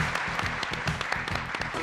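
Audience applause for the winner of a quiz show, a steady dense clapping throughout with faint voices mixed in.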